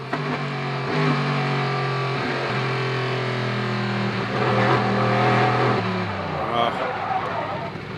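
A race car's engine holds a steady, droning note during the 2014 Sebring race, heard throughout the eight seconds beneath continuous commentator talk.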